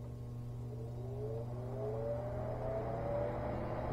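A replacement fan runs steadily inside a Lincoln 125/250 AC/DC arc welder, giving a constant close hum with a faint rising whine that drifts upward through the few seconds, no talking.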